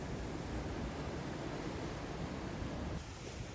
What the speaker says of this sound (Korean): 잔잔한 파도들과 함께 자갈들이 만들어내는 아름다운 자연의 소리를 잠시 즐깁니다.